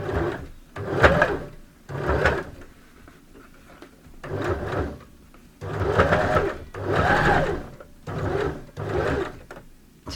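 Repeated bursts from a sewing machine straight stitching a three-layer fabric face mask, each run a few seconds long, separated by brief pauses, close and fairly loud.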